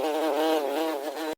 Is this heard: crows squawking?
no